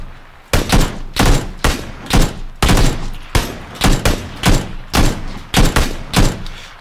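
SKS rifle shots in PUBG ring out in a steady series of about eleven loud, sharp cracks, each with a short echoing tail, evenly spaced and close.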